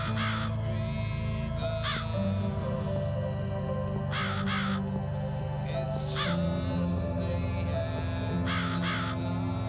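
A crow caws in the video game The Cat Lady, giving several harsh calls in short groups spread over ten seconds, over a steady low droning background hum.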